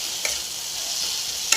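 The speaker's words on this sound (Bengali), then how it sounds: "এখানে ডিম আলুর তরকারি করছি ভেজে" Egg and potato curry fries in a pan, a steady close hiss of sizzling oil with two brief clicks from a utensil.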